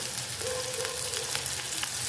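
Two large chopped onions frying in a generous amount of hot oil in a kadhai, giving a steady, even sizzle and crackle that holds close and continuous throughout.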